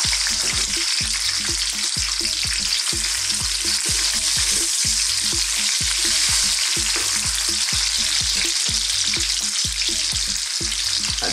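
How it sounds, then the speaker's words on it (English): Onion frying in hot sunflower or olive oil in a wok, a loud, constant hiss up close with a rapid rhythmic thumping of tossing or stirring running throughout. "A touch of oil in there. Again, use the sunflower or an olive oil. It's nice and hot. Let's get that onion in."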